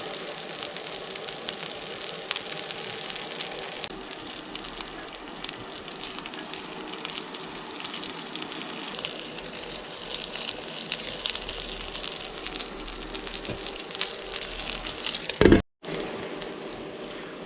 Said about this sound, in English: let's just cook a burger for now